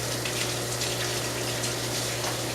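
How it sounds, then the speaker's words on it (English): Hands being rinsed under a running kitchen tap, a steady close rush of water with a constant low hum beneath, unbroken and without talking. "let me rinse my hands real quickly here"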